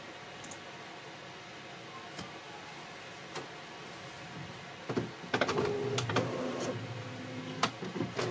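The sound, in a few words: printer printing an order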